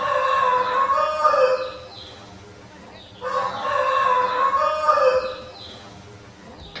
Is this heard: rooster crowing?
yes